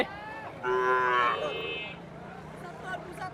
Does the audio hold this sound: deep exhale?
no